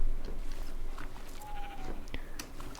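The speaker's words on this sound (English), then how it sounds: "There's another sheep." A Minecraft sheep gives a short, clear bleat over a hazy bed of game ambience.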